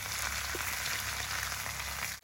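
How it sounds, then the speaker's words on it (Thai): Homemade Thai curry paste frying in hot oil in a pan, a steady dense crackling sizzle filling the whole stretch without pause, close and fairly loud, cutting off abruptly at the end. "ผัดเครื่องแกงให้ หอมนะยาย"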